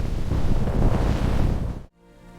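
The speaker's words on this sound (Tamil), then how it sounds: "காற்று பலமாக வீசியது." Strong gusting wind in a cartoon storm scene, a loud, dense, steady roar that swells and sustains for about two seconds before cutting off sharply into near silence.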